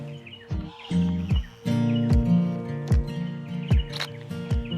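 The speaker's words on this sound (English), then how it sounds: "It's a marvelous spot and you can hear the birds everywhere." Birds chirp and tweet in quick bursts around the scene, layered over a low rumbling hum and occasional soft thumps.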